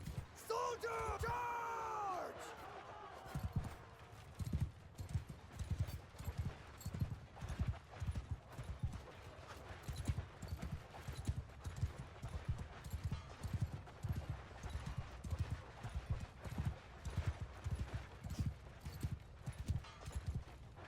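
Cavalry horses gallop in a large battle in the video game Bannerlord, with steady rhythmic hoofbeats pounding close and loud, mixed with scattered yells and a crowd-like din; a voice speaks briefly at the start.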